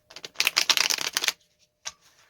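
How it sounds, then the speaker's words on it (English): Tarot cards being shuffled by hand, a quick run of crisp riffling flutters followed by a pause and a couple of soft taps. "I'm going to shuffle a couple more times here, okay?"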